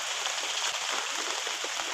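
Steady rain pouring on a village road, a dense continuous hiss of drops close around with no pauses and no voices.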